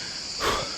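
Shrill, continuous cricket chirring on an uphill path near a beach in Dalaman, Turkey, fills a brief moment with a soft swell of outdoor noise in the middle.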